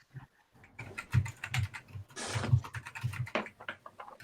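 Rapid clicking of a loud computer keyboard being typed on, irregular bursts of keystrokes with a brief heavier clatter midway, close and alone with no talk.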